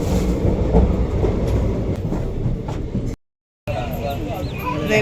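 A passenger train between Palakkad and Coimbatore rumbles steadily along the rails with a dense, rattling roar, cut by a brief silent dropout before the clatter resumes.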